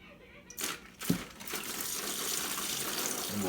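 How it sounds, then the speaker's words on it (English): Brine pours steadily and close by over chicken after a brief crinkle and splash, a continuous wet rushing that runs to the end. "we'll take this brine and we'll pour it in there nice and slow"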